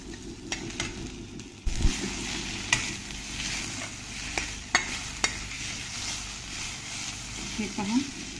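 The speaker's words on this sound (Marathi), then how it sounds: "आता याला आपल्याला छान एक 3-4 मिनिटं तरी हा मसाला भाजून घ्यायचा आहे" Masala paste sizzles gently in a pan over a low gas flame while being stirred for a mango vegetable dish, with steady frying hiss and occasional scraping and clinking of the spoon.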